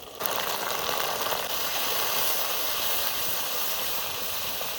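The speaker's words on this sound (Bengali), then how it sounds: "এবার ভালো করে মশলাটা কষিয়ে নেবো" Dry red chili paste and masala sizzle in a pan as they are sautéed for chicken curry, a loud, steady, close hiss that carries on unbroken with no talking.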